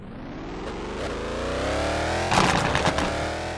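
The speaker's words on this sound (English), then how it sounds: "That is a muscle car startup. The engine sound is much different." A muscle car engine in the video game Wayfort cranks and roars to life, revving up loudly with a rising growl and a few sharp backfire crackles near the end.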